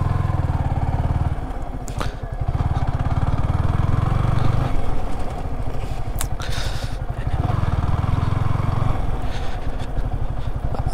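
A Yamaha R15 V3 motorcycle rides over a broken road, its engine droning close and steady, rising in loud surges with rattles and clatter from the rough surface.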